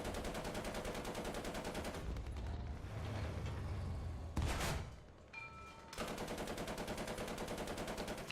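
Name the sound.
H35 tank machine gun firing in video game War Thunder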